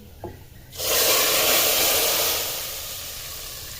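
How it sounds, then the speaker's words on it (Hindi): Hot tempering of cumin fried in oil poured into whole masoor lentil dal, bursting into a loud, sudden sizzling hiss that stays strong and then slowly fades, close up, after a brief clink. "तो हम क्या करेंगे, दाल में तड़का लगा देंगे।"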